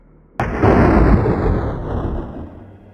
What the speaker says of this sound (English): Suddenly, the basement door slammed shut with a loud bang.